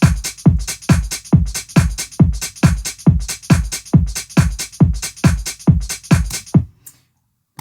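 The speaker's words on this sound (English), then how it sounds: "it's a drum sample from another track that I've made." Dry drum stem from a produced track, with no EQ, delay or room reverb: a steady pattern of punchy kick and snare hits with crisp hi-hats, about twelve evenly spaced beats, loud and close, then an abrupt stop.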